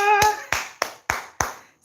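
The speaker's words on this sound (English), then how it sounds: "I can give you a clap" Five sharp hand claps spaced about a third of a second apart, close and loud, following a brief bit of voice at the start.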